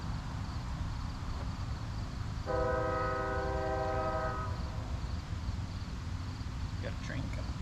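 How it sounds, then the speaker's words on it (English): A train passes at a distance outdoors, its horn sounding a steady multi-tone blast for about two seconds over constant rumbling background noise. "Got a train coming."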